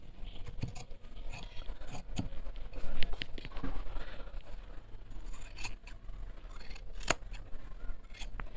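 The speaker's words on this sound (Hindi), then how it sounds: "पलटने से पहले जो भी एक्स्ट्रा मार्जिन होगा उसे हम काट देंगे।" Scissors snip away the extra seam margin on a Nehru jacket before it is turned, giving repeated close, crisp cuts in an irregular rhythm with soft fabric handling between them.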